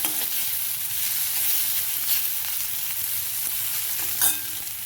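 Onions sizzle steadily as they are sautéed to a light pink in a pan for a dry green bean and cauliflower dish, with an even frying hiss and occasional stirring scrapes, close and continuous.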